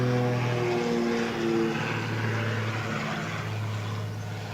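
A propeller airliner drones steadily nearby while landing at Gold Coast Airport, engine hum holding level, then easing slightly toward the end.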